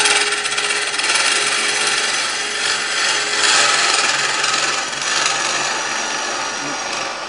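A hand tool cuts wood right at the join between resin and timber, giving a loud, continuous rasping scrape close by with slight surges in intensity and no talking.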